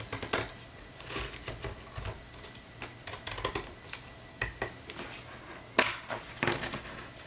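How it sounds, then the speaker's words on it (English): Deckled edge scissors snip through a paper strip: a string of short, crisp cuts with quiet pauses between them, close and fairly soft, with no talking. "I'm going to use my deckled edge scissors here and cut this strip"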